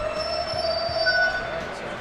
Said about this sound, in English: We jump on the A train.